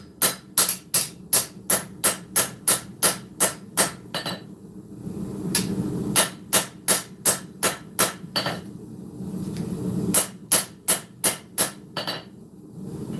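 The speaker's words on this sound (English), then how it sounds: "Planishing, we're not swinging the hammer super hard." A smith planishes a forged Viking-style sword blade with light, even hammer blows: a rapid run of sharp metallic strikes, a short pause, then more steady bursts of ringing hits, close and loud with no talking.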